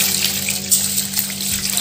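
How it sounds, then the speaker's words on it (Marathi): Water gushes steadily from a tap onto toor dal and rice in a vessel for khandeshi khichdi, a loud close continuous rushing stream with a faint hum beneath. "त्यात मी आता पाणी टाकून 3 वेळा धुवून घेते।"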